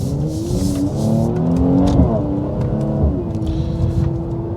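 A Mercedes C43 AMG engine, 400 horsepower with a manual gear mode, blips and revs sharply on downshifts, rising and falling pitch in a few quick bursts, close and fairly loud with no talking.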